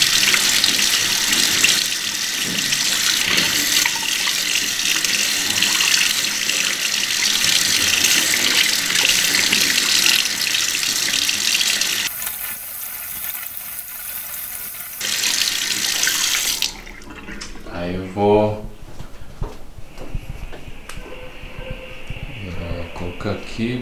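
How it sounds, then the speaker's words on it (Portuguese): Cinema film being rinsed under a running bathroom tap to wash out salt: a steady, fairly loud gush of water that stops briefly, returns, and then gives way to a voice talking. "Agora eu vou lavar pra tirar o sal."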